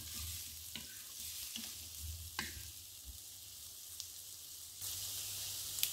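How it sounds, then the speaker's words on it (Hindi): Egg fried rice is stir-fried on a high flame in Chinese style, giving a steady loud sizzle with occasional scraping stir strokes and a brief louder surge near the end. "मैंने हाई फ्लेम पे 2 से 3 मिनट के लिए स्टर फ्राई कर लेंगे."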